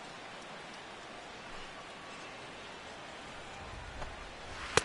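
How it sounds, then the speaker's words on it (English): Steady rain pours over a ballpark during a game in MLB The Show 16, a continuous soft hiss with a brief louder patter near the end. "The rain, as we've mentioned, coming down fairly steadily here at game time"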